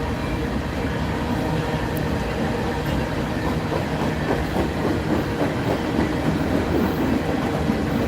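A freight train rolls past the Dalton Freight Depot with a steady, loud rumble and rhythmic clickety-clack of wheels on rail joints, continuous throughout at close range with no talk.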